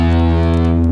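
A guitar built into a VW body plays through a fuzz effect, giving a brief steady buzzing, saturated tone that is loud and sustained for under a second.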